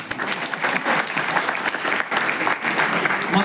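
Loud, sustained applause from an audience at a school award ceremony honoring top students, the clapping dense and continuous throughout with no pauses.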